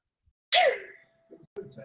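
A single sharp sneeze bursts out, loud and close, followed by brief quiet voices.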